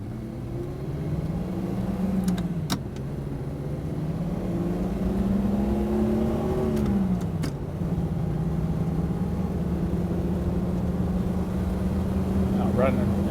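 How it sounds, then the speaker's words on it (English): A 1959 Mercedes 220SE pulls away under power into traffic, its engine droning steadily with a couple of rising pitch sweeps as it accelerates, heard from inside the car with faint clicks and someone talking over it. "we'll do a little power pull out here if we can and get out into this traffic"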